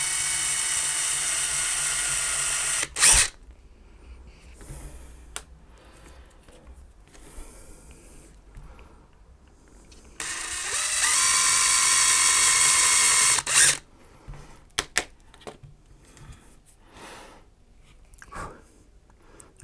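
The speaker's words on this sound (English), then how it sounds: "I'll go over 5mm drill bit. And I'm just going to see basically if I can take some of this potting compound out" A 5mm drill bit bores into potting compound inside a Honda Civic MK8 power folding mirror, coming as two loud, high whining bursts of a few seconds each, separated by quieter handling clicks and rattles nearby.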